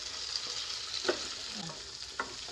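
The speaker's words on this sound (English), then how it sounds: "You want to keep your meat stirred." Beef fries and sizzles in a pan while being stirred, a steady close hiss under a few brief scrapes and clinks of the utensil.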